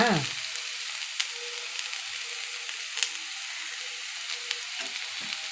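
Cabbage and fresh grated coconut stir-fry sizzling steadily in a pan, a continuous hiss of frying with a few light pops and clicks, close and moderately quiet.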